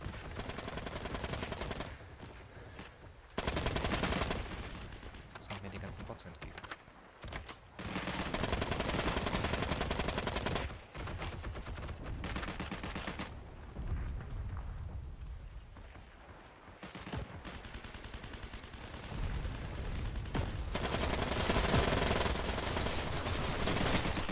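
Dense bursts of rapid automatic gunfire in the video game Heroes & Generals crackle almost continuously, loud and close, with brief gaps between volleys.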